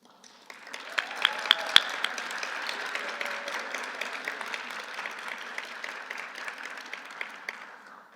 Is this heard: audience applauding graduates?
yes